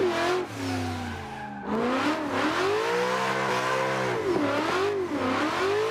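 A BDC V6 drift car in the Assetto Corsa racing game revs hard as its tires squeal through a long slide, the engine pitch rising and falling over the continuous screech.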